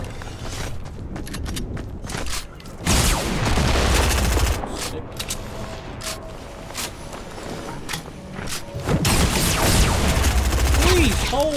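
Bursts of gunfire in Fortnite Battle Royale, rapid overlapping shots and heavier booms that come in clusters over a noisy, busy game scene, with voices occasionally talking over the action.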